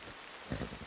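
Rain falls in Red Dead Redemption 2 as a steady, soft hiss of drops lasting about a second, with a brief low thump partway through.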